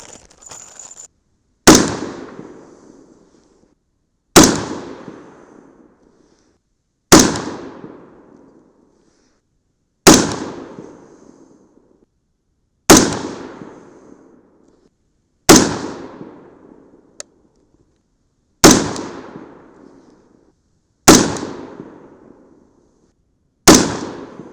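Sped-up rifle fire from a gun fitted with a Vortex scope: nine sharp, loud reports at even intervals, each followed by a quickly fading ring, with no talking.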